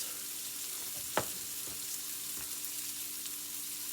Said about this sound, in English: And that high heat sears that meat.